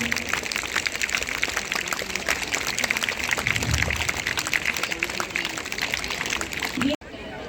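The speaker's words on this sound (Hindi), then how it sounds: "उनके लिए तालियां बजाते रहें, कर्तव्य ध्वनि रुकनी नहीं चाहिए।" A large crowd claps continuously at an outdoor school sports day, a dense steady wash of applause that runs for about seven seconds before cutting off abruptly.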